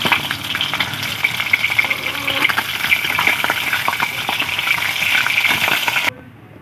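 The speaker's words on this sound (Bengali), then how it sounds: "বাকি মাছগুলো একইভাবে ভেজে নেব।" Rui fish pieces frying in hot oil, a loud, steady sizzle with crackling pops and occasional stirring clinks that stop abruptly at the end.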